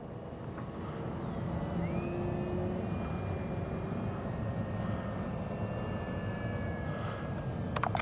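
An X-Fly Spitfire RC warbird model airplane passes low and slow with flaps down, its steady engine drone rising and holding loud across the pass over outdoor background noise.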